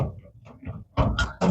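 Drawers of a locking metal file cabinet being closed, giving a few muffled knocks followed by two sharp metallic bangs near the end, close and fairly loud.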